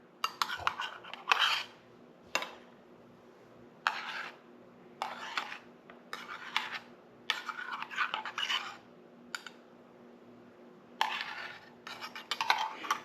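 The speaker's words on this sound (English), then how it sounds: "And then I'll scoop out the foam for her." Milk foam is spooned onto espresso with half and half, heard as a series of short, close scraping and clinking bursts separated by brief pauses.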